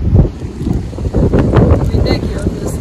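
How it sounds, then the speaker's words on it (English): Strong wind buffets the microphone with a loud, rumbling roar, gusting continuously with a voice faintly mixed in. "And the wind is windy"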